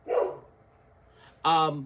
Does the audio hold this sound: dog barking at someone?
yes